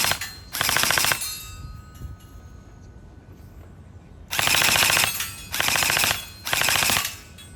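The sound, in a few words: M4A1 gel blaster firing at target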